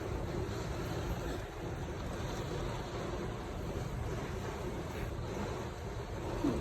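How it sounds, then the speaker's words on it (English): Heavy summer rain and strong wind outside in the desert of Mesa, Arizona, a dense, unbroken roar of steady wash, fairly soft and constant throughout. "it is really raining outside right now"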